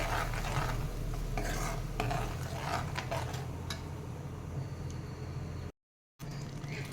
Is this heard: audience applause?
no